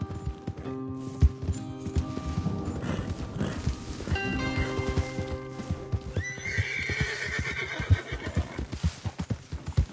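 A horse neighs loudly in Red Dead Redemption 2 amid clip-clopping hooves and sharp game sound effects, with a second whinny rising near the end.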